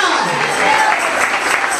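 A congregation at an evangelical revival service in Barrio Lindo, Buenos Aires, breaks into a dense, steady wash of clapping, with voices mixed into the noise throughout a brief burst.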